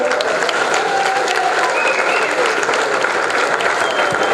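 An audience applauds steadily at a school event, a welcoming round of clapping for the principal that stays dense and loud throughout with a faint crowd murmur beneath.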